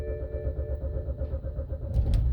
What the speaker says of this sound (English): I'm gonna start my car.